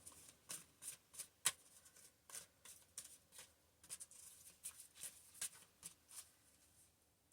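Oracle cards shuffled by hand, a quiet run of crisp riffling bursts and soft slides repeating irregularly, close and alone without talk.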